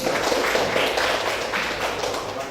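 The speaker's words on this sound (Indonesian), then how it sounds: "tepuk tangan untuk semua" A classroom audience applauds, giving a steady, dense patter of clapping hands that holds at an even level throughout without talk.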